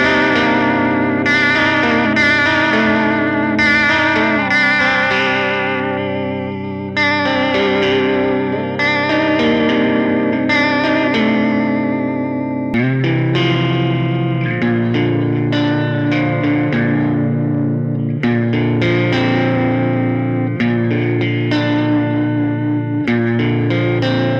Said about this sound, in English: the vibrato sounds pretty cool